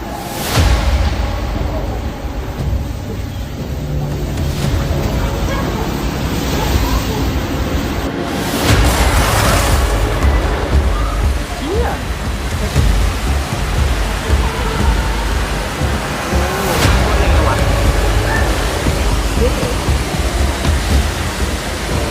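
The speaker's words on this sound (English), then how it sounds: "A massive wave shatters the windows of a ferry during a storm in Germany." During a storm in Germany, a massive wave slams into a ferry and shatters its windows, heard as loud crashing bursts over a constant roar of wind, water and spray.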